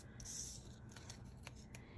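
Scissors cutting paper labels for an envelope fold craft: a faint, close snip and slide of the blades through paper, then a few light clicks in a quiet room.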